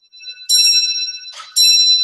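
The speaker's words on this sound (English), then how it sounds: "that's like the world's oldest clock is going to town over there" An old clock chimes in bright, ringing metallic tones, two strikes with a sustained hum lingering between them, loud and nearby in a room.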